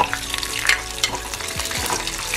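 Hot ghee frying in a pan, a steady close crackling sizzle that continues throughout with faint stirring scrapes.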